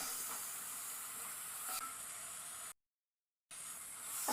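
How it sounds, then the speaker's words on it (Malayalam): Coconut milk poured into a hot pan brings a soft, steady sizzle and hiss with light stirring, briefly cut off by a moment of silence before the frying hiss returns. "നമുക്കിതിലേക്ക് ഒരല്പം തേങ്ങാപ്പാൽ ഒഴിച്ച് കൊടുക്കാം"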